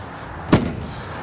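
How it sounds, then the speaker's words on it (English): The door of a 2013 Ford F150 pickup swings shut with a single solid thud midway through, set against a quiet outdoor background. "I'll shut this door here."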